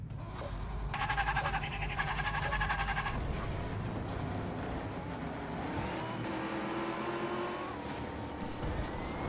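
Race cars in a racing video game roar steadily and loudly through the whole stretch, engine tones rising and shifting as they speed along, with a pitch sweep partway through as one passes close.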